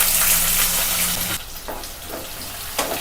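Thinly sliced medium onion and small green chillies hitting hot oil with tempering spices, a loud close hiss that drops sharply after a second and a half into a softer crackling sizzle with brief flare-ups.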